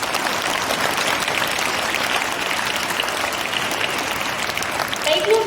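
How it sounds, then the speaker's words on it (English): A steady, full round of clapping from an audience in a hall at a motivational talk, honoring teachers and sisters, with a voice rising faintly just before the end. "So a big applause for all the teachers and sisters over here"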